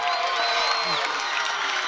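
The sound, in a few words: crowd cheering at high school football game for Salinas High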